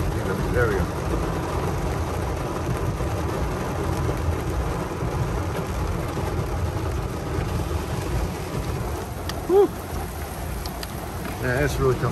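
Heavy rain pours down during a thunderstorm at Big Bear Lake, California, a loud, dense, steady hiss drumming around a parked car, with faint talk underneath.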